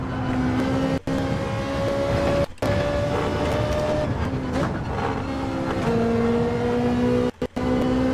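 Race car engine of a Subaru BRZ in Gran Turismo 7, a steady loud drone with clear rising and falling engine tones through gear changes, broken by a few brief cuts where it drops out for a moment; no talking.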